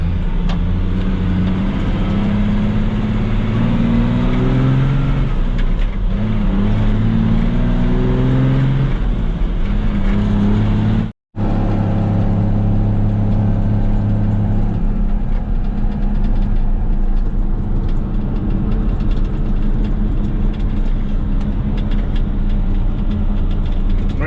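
Work vehicle rolling along a rough site road near a pool pavilion grading project, its engine droning steadily with gear-like pitch shifts, close and continuous, with a brief dropout midway.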